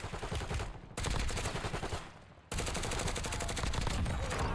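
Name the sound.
incoming gunfire in the video game Warzone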